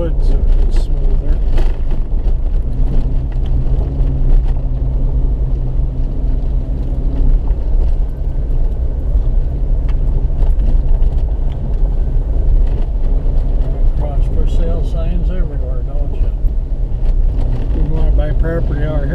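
1999 Jeep Wrangler rolling down a rough, washboarded dirt road, heard from inside the cab as a steady loud rumble with rattles and jolts, while people talk over it.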